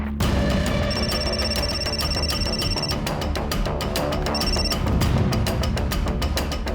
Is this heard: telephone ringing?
yes